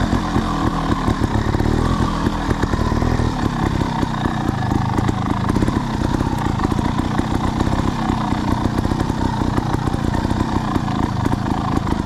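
Trials motorcycle ridden over a log stack, its engine buzzing loudly and close with constant throttle blips and revving pulses, rough and continuous throughout.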